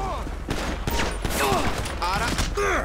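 Bursts of gunfire in the Grand Theft Auto 5 video game crack in quick succession under and between talk, with a voice speaking over the loud shots.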